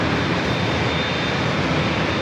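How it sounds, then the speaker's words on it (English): A Southwest Airlines Boeing 737-700 jet at San Diego airport gives off a dense, steady engine roar, loud and close, unbroken for the whole short stretch with no talking. "Southwest Airlines flight 1198 coming up from Indianapolis, Indiana, 737-700"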